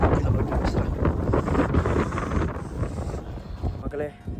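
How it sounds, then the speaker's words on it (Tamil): Cool wind buffets the microphone on the Velliangiri mountain trek in India, a continuous gusty rumble with someone talking over it throughout. "கிளைமேட்டு செம்மையாக இருக்குது, சில்லுன்னு காற்று"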